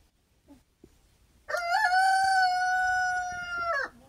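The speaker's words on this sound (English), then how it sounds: "sounds of the rooster chicken crow" A rooster crows once, loud and close, a single long harmonic call that holds steady for over two seconds and then breaks off, with a few faint knocks before it.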